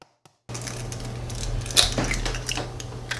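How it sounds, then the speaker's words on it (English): One egg being cracked into a measuring cup: a crisp tap against the rim followed by faint clinks and the shell pulling apart, close-up over a steady low kitchen hum. "In a measuring cup, I'm going to be cracking one egg"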